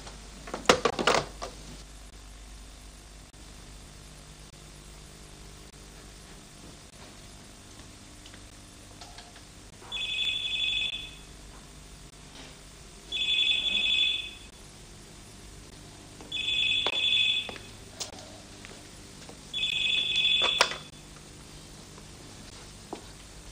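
A telephone rings in four evenly spaced electronic bursts, each about a second long, after a loud knock at the start, with a quiet room hum underneath and no talking.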